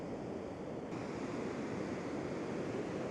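Ocean waves breaking on a shore while fishing among kelp, a faint, steady wash of surf with a soft windy hiss throughout.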